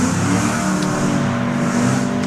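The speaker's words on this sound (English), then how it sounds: "Andy Burt's Skyline. Getting close to the finish line now." Andy Burt's Nissan Skyline race car at a hillclimb near the finish line, a loud, close, throaty engine drone with steady tonal harmonics and slight shifts in pitch, no talking.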